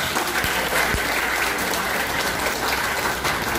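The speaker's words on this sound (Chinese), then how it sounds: "我们再给他们一个热烈的掌声。" Applause from an audience at a Taiwan Soka Association event after a children's performance, a steady dense clapping that fills the whole moment, loud and continuous with no talk over it.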